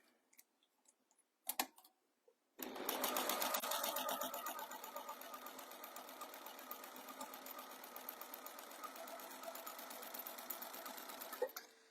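A sewing machine stitches diagonal shadow quilting lines, starting with a few short bursts and clicks, then running continuously in a fast, even rattle that stays close and steady to the end.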